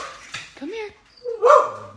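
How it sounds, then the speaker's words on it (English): A dog growls and vocalizes close by in a couple of short, tonal bursts while a person briefly speaks over it. "That's my dog growling."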